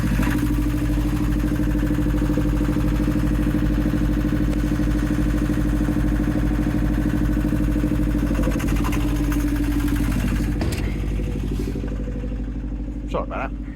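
A backup generator drones inside a soundproof box that powers a water pump, a steady loud engine rumble heard close and continuous, easing slightly toward the end with faint clicks.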